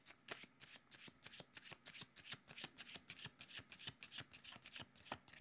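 Tarot cards are shuffled in quick, even riffling strokes, a rapid rhythmic series of papery slaps and rubs continuing close up without a break.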